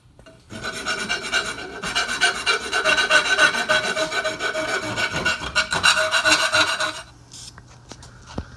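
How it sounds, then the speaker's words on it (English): Hand file rasping steadily over metal brackets for a wing mount, continuous close strokes for about six seconds before stopping, with no talk. "Smooth them down with a file."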